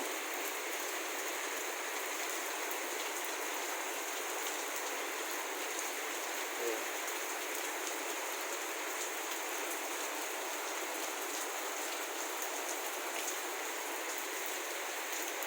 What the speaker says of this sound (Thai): หลังจากนั้นฝนก็มาอย่างแรง